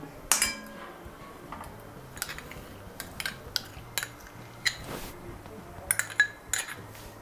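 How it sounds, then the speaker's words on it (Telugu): Metal kitchenware clinking on a stovetop as a kadai, a wok-like pan, is set down to melt ghee: a string of sharp separate clanks and taps, some louder than others, spaced irregularly over quiet background. "స్టవ్ ఆన్ చేసుకుని ఇంకొక కడాయి పెట్టుకుందాం"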